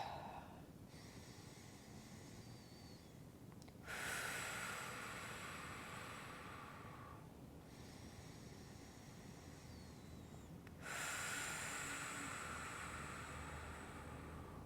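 Slow, deep belly breathing during a prenatal vinyasa yoga class, heard as two long inhale-exhale cycles that are close and soft, with airy rushes and no talk.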